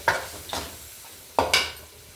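Curry in a pot cooks down until the oil separates, a faint bubbling sizzle with a few louder stirring scrapes and clinks, close and alone.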